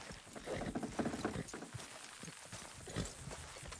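Horse hooves clip-clop at a steady trot in the Red Dead Redemption 2 video game, mid-loud and continuous, with faint game sounds behind them.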